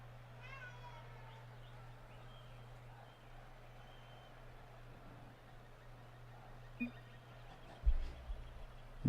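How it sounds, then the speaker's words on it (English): Pet cat meowing close by in a quiet room, a series of drawn-out meows early on, with an electrical hum underneath and a few louder knocks near the end. "My cat is just meowing up a storm underneath me."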